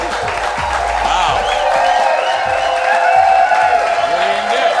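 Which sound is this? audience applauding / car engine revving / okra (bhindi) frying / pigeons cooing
audience applauding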